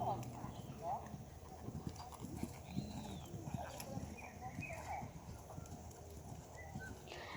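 A horse canters in a show-jumping training session, its hooves clip-clopping in a steady rhythm on the ground, moderately distant and faint beneath continuous background noise, with a few birds chirping.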